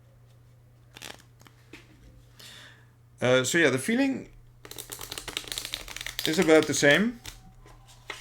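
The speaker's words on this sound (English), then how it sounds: "let's do a shuffle first" KEM Narrow bridge-size playing cards being shuffled, with crisp riffling bursts and rapid flutters, alternating with someone talking close by over a low steady hum.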